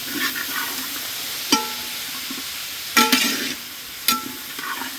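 Chicken curry pieces fry in a pan with a ginger-garlic tempering, a steady close sizzle broken by a few sharp scraping stirs of the spoon, with no voices.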